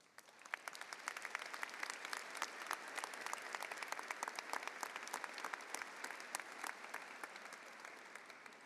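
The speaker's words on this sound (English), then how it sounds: "Please stand, and we will also give you a round of applause." A large audience at a college commencement ceremony in an arena applauds steadily, dense clapping sustained throughout, heard from a distance.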